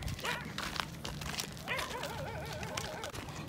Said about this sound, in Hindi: कुत्ते दूर दूर से भौंक रहे हैं।